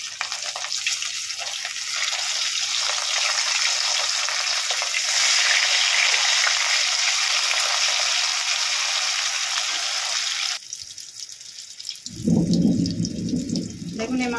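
Rohu fish frying in white oil in a wok, a loud steady hiss and crackle of sizzling that runs for about ten seconds, then drops off as a voice begins speaking.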